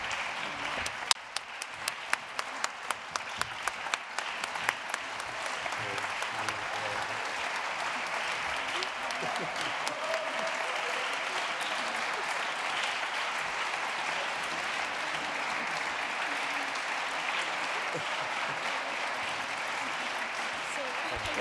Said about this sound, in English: There's no end of applause if I don't come forward.